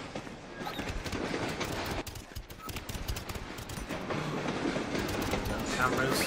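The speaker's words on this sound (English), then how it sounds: "Another train." A train rolls past in the video game Black To Fall, a continuous rumbling clatter with rapid rhythmic clicks that swells slightly toward the end, fairly loud and without speech.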